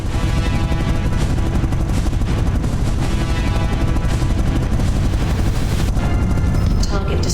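Rapid, continuous weapon fire in the space combat game Space Bourne 2, loud and dense throughout with booming impacts and bursts layered over one another.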